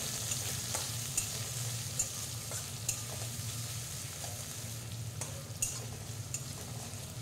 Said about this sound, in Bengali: এরপর কুচিয়ে রাখা পেঁয়াজগুলি দিয়ে দেব। পেঁয়াজটা একটু নাড়াচাড়া করে নিতে হবে।